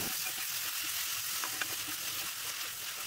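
Marinated chicken with ginger garlic paste frying in a pan for chicken ghee roast, giving a steady, close, even sizzle that runs throughout with no talking.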